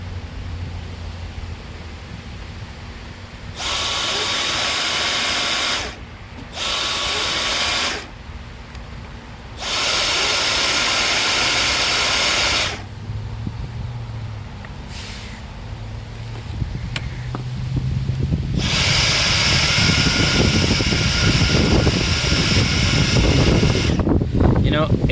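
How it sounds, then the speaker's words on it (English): A Dyson DC35 cordless vacuum's gear and belt run in short bursts, a high whirring whine that starts and stops several times, with someone talking in the pauses and handling noises near the end. "I want to see what this gear and belt sounds like running"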